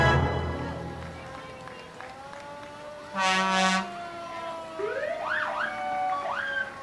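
Asheville Fire Department apparatus in a Fourth of July parade, an antique pumper, tanker, rescue and engines, sounding a wailing siren that rises and falls, with a short loud horn blast partway through and someone talking over it.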